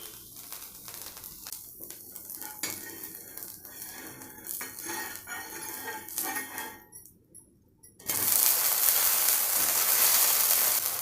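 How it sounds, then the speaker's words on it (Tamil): Dosa batter cooking on a pan and flipped to both sides, with scraping and clinking of a spatula and utensils, then a steady loud sizzle as the dosa fries. "தோசை வந்து 2 பக்கம் திருப்பி போட்டு நல்லா வேக வச்சு எடுத்துக்கோங்க"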